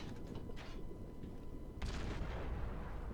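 A warship in the naval video game World of Warships fires an artillery salvo. Two sharp cracks are followed by a heavy, rumbling boom that lingers loudly in the background.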